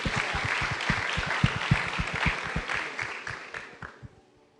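A church congregation at a youth service claps for the band, a lively crowd of hand claps with strong individual slaps near the front, tapering off and fading toward silence at the end.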